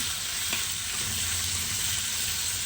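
Tomatoes sauté with browned onions in a pan for a lamb intestine curry, giving a dense, even sizzling hiss that holds steady throughout.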